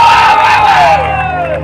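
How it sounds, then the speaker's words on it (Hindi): A big live-concert crowd roars and cheers loudly and continuously, with massed voices swelling and then easing slightly toward the end; no clear clapping stands out beneath the shouting. "एक बार जोरदार ताली हो जाए प्लीज"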